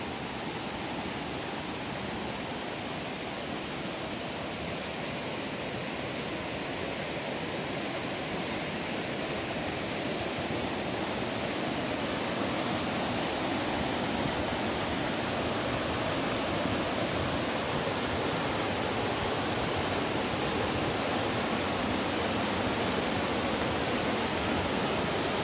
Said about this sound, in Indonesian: kali ini saya dan Bang Randy kita akan susur sungai